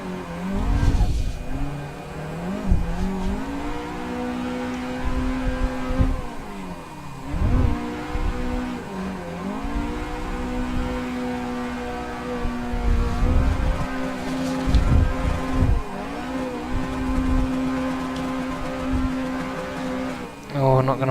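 Engine of a car drifting in the Assetto Corsa racing game, a steady droning whine that rises and falls with revs and gear changes over about twenty seconds, fairly loud and continuous.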